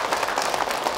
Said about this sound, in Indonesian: Tepuk tangan Ibu untuk Ustaz Cep ya.